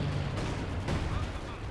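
Heavy howitzer artillery fire in Company of Heroes, a 4v4 match on Hill 400, with deep booming rumble and dense battle noise under a talking voice.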